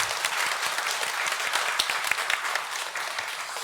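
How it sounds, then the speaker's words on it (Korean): A church congregation gives steady, dense applause during a Sunday morning worship service. The clapping sounds roomy and moderately loud, with no talk over it. "박수 올려드리겠습니다."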